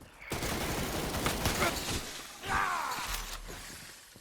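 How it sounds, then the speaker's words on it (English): Grenade launcher blasts in the Resident Evil RE:Verse multiplayer game, a dense run of booming shots and bursts with a whooshing swell midway, loud and continuous over game noise. "Oh, he has a grenade launcher."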